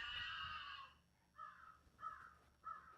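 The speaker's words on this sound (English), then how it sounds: "It's like a crow sound." A crow caws: one long harsh call followed by three shorter, evenly spaced caws, fairly faint and heard alone without speech.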